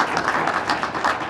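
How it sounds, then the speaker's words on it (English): Audience applause for Christine at a business talk, a brief burst of clapping with a steady patter at moderate volume that lasts only about a second. "How about a round of applause for Christine?"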